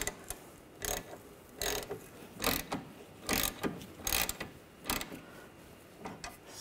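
Ratchet clicking in repeated bursts while tightening a rear sway bar bushing bolt on a 2004-2009 Audi A4 Quattro, close and crisp, with short pauses between each run of pawl clicks and no talk.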